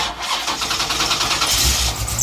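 A big block V8 in a rear-engine third-generation Pontiac Firebird cranks and fires, a short loud burst of starter churn rolling straight into a rough, rumbling catch, close and alone.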